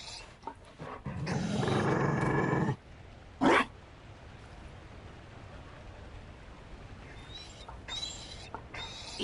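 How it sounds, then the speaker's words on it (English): A Mabari dog in the fantasy game Dragon Age: Inquisition lets out a loud, rough growl of a couple of seconds, then a short snarl, over a faint outdoor ambience with light scattered noises. "You found a dog?"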